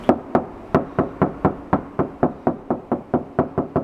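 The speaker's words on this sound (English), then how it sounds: "You can hear how high pitched the knocking is." Rapid series of sharp knocks on bare car door sheet metal with no sound-deadening, about a dozen evenly spaced raps with a bright, ringing, high-pitched tone.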